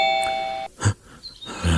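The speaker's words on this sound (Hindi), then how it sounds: "डोरबेल बजाती है" A doorbell chimes once with a bright two-tone ding-dong, clear and close, followed by a short quiet gap and some faint room noise.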